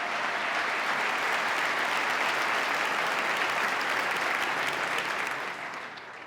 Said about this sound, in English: Let's give the new county executive a round of applause.